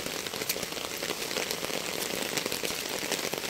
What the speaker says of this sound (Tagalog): Walking in the rain, kahit madulas, ingat.